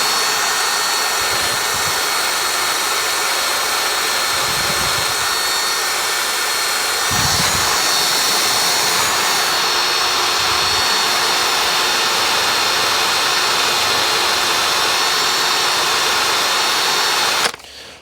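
A power tool scouring rust off the flywheel magnets of a Hayter 41 lawnmower: a loud, continuous high whine with occasional grinding bumps that stops abruptly at the end; no voices.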